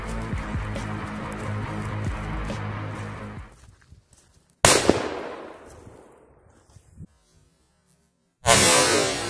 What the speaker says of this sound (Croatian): Idemo, ljudi, Mambu sada testiramo